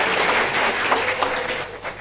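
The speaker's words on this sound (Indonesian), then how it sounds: "boleh nggak kasih tepuk tangan buat guru-guru sekolah minggu?" Church congregation clapping for Sunday school teachers, a steady dense patter of applause held at moderate level for two seconds with no talk over it.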